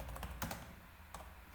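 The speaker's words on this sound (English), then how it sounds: "Here I can type whatever I want." Brief, faint taps on a computer keyboard in a quiet room, a few soft keystrokes clustered at the start and one more shortly after, with no talk.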